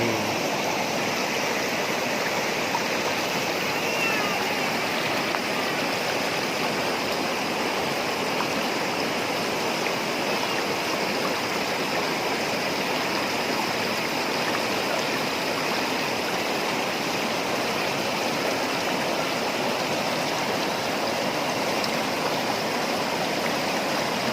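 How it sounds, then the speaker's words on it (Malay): Steady rushing stream water flows continuously and fairly loudly, a constant watery roar with no voices, at Blang Kolam. "Air luar biasa, sangat nyaman dengan suara air"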